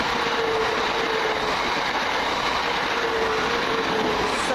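Class 378 train, unit 378152, arriving at New Cross station to terminate: a steady loud rumble of wheels and motors with a faint thin squeal running throughout, no talk.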